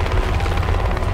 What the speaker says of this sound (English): There's helicopters up top.